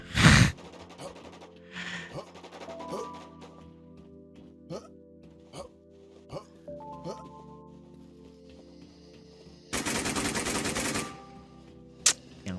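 Gunfire in the survival shooter Warz, with scattered single shots and a sustained burst of rapid automatic fire near the end, against quiet background music and a brief gasp at the start.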